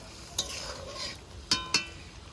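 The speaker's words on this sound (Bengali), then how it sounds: "মাছগুলো নেড়ে ছেড়ে দিয়েছি" A spoon stirs small loitta (Bombay duck) fish frying in a kadai. Faint sizzling runs underneath, broken by three sharp scraping clicks of the utensil, one early and two close together later.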